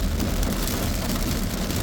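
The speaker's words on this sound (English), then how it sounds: "This dang rain." Heavy rain pours steadily and loudly onto a surface, a dense, unbroken wash of drops very close by.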